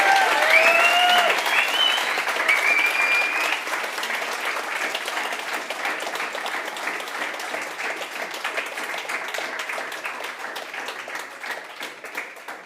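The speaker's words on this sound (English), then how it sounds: "Please join me in a round of applause." Sustained audience applause after a panel discussion at a youth forum, a full crowd clapping loudly at first with some cheering whistles, then holding steady and slowly easing off over several seconds.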